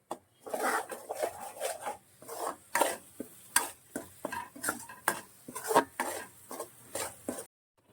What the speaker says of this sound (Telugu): నేను ఇందాక ప్రిపేర్ చేసిన మసాలా అంతా ఆయిల్లో బాగా వేగేంత వరకు ఫ్రై చేస్తాను